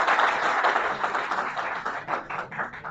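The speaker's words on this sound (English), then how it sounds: "Give them both the sides a big round of applause for both the sides." An audience claps for both competing teams at a university moot court session, producing dense, steady applause that fills the whole stretch and thins slightly toward the end.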